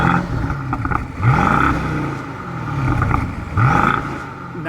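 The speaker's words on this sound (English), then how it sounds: "Let's do a little rev time." A BMW 650i Gran Coupe with a 4.4-litre twin-turbo V8 revs up twice in sharp rising bursts, each falling back to a rumbling idle. The sound is close, loud and alone.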